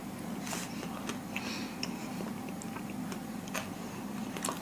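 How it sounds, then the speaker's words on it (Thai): Fried Spanish peppers being chewed quickly up close, with a series of short, crisp bites and wet mastication clicks over a low room hum and no talking. "กินเร็วอยู่อะเคี้ยวเร็วอะ"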